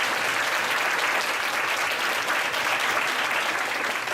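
An academic event audience applauding a professor, a dense, steady wash of clapping from a full room that stays loud and even throughout without pause.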